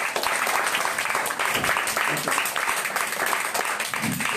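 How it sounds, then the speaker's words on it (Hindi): Children at a personality development and value education camp clapping together, a busy, lively burst of many small hands that runs steadily from start to finish with a few voices mixed in. "तो सभी अपने लिए एक बार तालियां बजाएं।"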